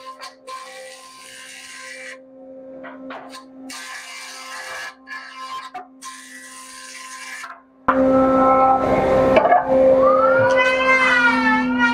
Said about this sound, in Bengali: এটা হচ্ছে থিকনেসার, এই কাঠটাকে আপনার ওই সমতল করবে, সোজা করবে কাঠটাকে